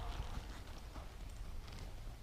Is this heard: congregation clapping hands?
no